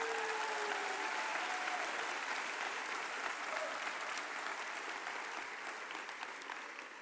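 Sustained audience applause at a 2018 health professions school graduation ceremony, dense steady clapping from a large crowd throughout, tapering slightly at the end.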